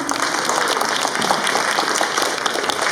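Sustained applause from an audience at a school Pongal (Tamil harvest festival) celebration, a dense, steady clatter of many hands clapping for the full length without a break.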